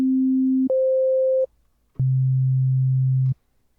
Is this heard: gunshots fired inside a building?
no